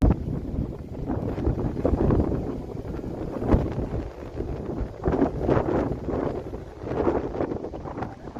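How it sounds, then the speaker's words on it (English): Strong wind in a heavy snowstorm in Englehart, Ontario, roaring and buffeting the microphone in uneven gusts that swell and ease, loud and close with no voices. "a powerful snowstorm hit Englehart, Ontario, bringing heavy snowfall and strong winds"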